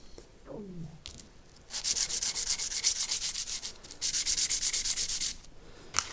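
A bone guitar nut is rubbed on 320-grit sandpaper in two long passes of rhythmic, raspy back-and-forth strokes, close and steady, with a brief pause between the passes.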